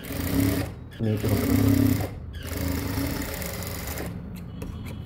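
Sewing machine stitching a neckline runs steadily with a dense mechanical whir, pausing briefly between stitching runs, while a person speaks quietly over it.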